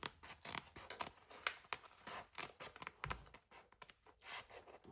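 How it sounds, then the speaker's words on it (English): Scissors snip open a sewn zipper pocket in a series of close, quick, crisp cuts and fabric rustles with short pauses, with no one talking. "you take your scissors or seam ripper or however you want to open up your zipper pocket"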